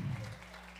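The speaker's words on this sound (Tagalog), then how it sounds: "Malakas na palakpak sa Panginoon" A church congregation at a midweek worship service claps loudly for the Lord, a brief, even wash of clapping over a low room hum, with no voices.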